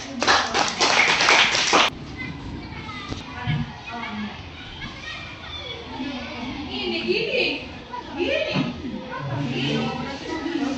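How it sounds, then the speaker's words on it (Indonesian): Junior high school students in a classroom clap in a brief burst of applause lasting about two seconds, followed by the teacher talking and children chattering and shuffling in the background. "Maka sekali lagi kita berikan tepuk tangan bagi"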